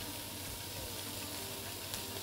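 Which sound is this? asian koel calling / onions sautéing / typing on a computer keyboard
onions sautéing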